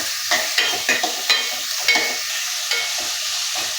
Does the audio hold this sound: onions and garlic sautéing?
yes